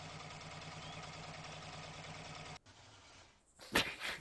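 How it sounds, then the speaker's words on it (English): A tracked military vehicle engine runs with a steady, even mid-low drone for about two and a half seconds, then cuts off abruptly, followed by quieter rumbling and a brief louder burst near the end. "You'll recognize the sound of a tractor vehicle a mile away"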